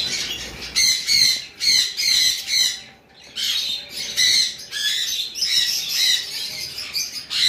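Caged lovebirds squawk and chirp loudly in shrill, rapid bursts, repeated calls from several birds close by with one brief lull midway.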